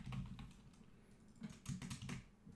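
Typing on a computer keyboard during a coding session: quick, close, soft key clicks in short irregular bursts over a quiet room.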